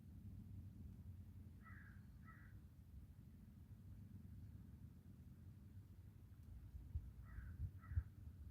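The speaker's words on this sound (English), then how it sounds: "That's a noisy bird." A crow caws from a distance in two short pairs of calls, one early and one near the end, over a steady low outdoor rumble beside a pontoon during a catfishing outing.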